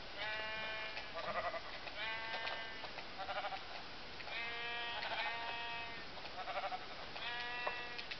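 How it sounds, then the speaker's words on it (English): Sheep in a video game bleat over and over in a steady run of overlapping cries across the whole stretch, with no talking. "Now I'm gonna kill some sheep with my carrot."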